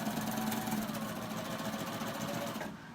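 A serger sewing machine runs fast and steady off the end of the fabric, a close mechanical chatter that cuts out abruptly just before the end.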